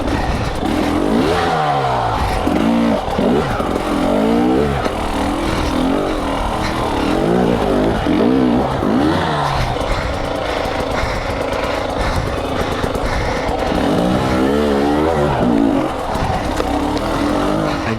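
A 2020 KTM 300 XC-W two-stroke enduro motorcycle ridden on a soft trail, its engine loud and close throughout, revving up and down continuously with throttle changes and no talk.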